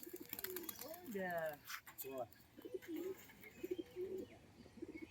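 Pigeons in a loft give low, repeated coos and chirps in uneven bursts, with wing flaps and people talking close by.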